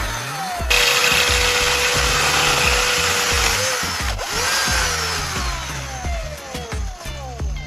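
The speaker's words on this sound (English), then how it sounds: "I drilled a hole right in the center of the lid to create an opening" A power drill whirs loudly and continuously, bore pitch sagging and recovering under load as it cuts a hole through the center of a lid, with intermittent mechanical rattling and no talk.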